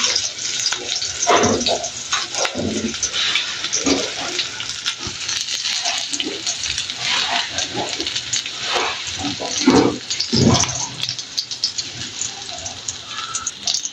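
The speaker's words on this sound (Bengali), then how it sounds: "আমি জাস্ট পেঁয়াজ, রসুন আর কাঁচামরিচ সাথে একটু হালকা লবণ দিয়ে শাকটা ভাজি করে নিব" Leafy greens fry in a pan with onion, garlic and green chili, giving a steady hissing sizzle throughout, with intermittent stirring clatter and louder bursts, no one speaking.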